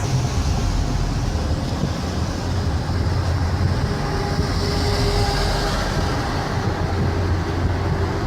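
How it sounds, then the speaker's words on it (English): A city train passing through a transit-oriented development makes a loud, steady rumble that holds for the whole stretch, close by and with no voices over it. "And there's the train right there."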